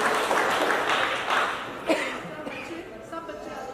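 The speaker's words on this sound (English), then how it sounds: "Now we'll give you a huge round of applause, everybody." An audience at a hospital hearing-support event applauds, the clapping loudest at first and gradually thinning, with voices and a cough or chuckle mixed into the crowd noise.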